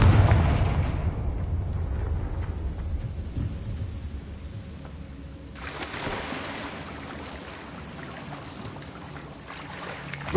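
A Confringo spell blast in Hogwarts Legacy lands as a loud, booming explosion that decays into a long rumbling tail, followed by a burst of crackling debris.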